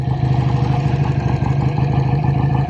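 A 1965 BSA Thunderbolt 650 motorcycle idles close by, its parallel-twin engine giving a loud, steady, throbbing low burble with a rapid even pulse, heard alone without talk.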